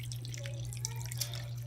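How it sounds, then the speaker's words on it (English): About 250 ml of water is poured into a cooking pot of chicken in tomato sauce, a faint trickling, dripping splash over a steady low electrical hum. "so I will just put 250 mils of water"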